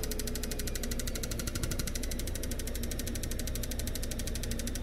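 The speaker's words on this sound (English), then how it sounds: "So we'll fire this up, and when I do, I'll try and set the fuel pressure up to about 50 pounds" A Mr Cartool fuel injector tester and cleaner runs steadily near the mic with a constant buzzing, pulsing mechanical drone and no pause, set to about 50 psi fuel pressure for a test on a truck's injectors.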